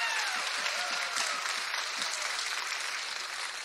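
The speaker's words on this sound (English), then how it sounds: "give her another big round of applause" Applause from the crowd at a 2014 Miss Strassenfest pageant, steady, moderately loud clapping from many hands in a hall, holding evenly for the whole stretch with no talk.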